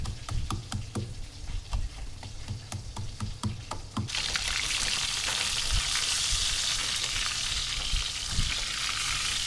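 Fish frying in a pan for a Khmer dish: light crackling and tapping over the first few seconds, then a loud, steady sizzle that continues to the end.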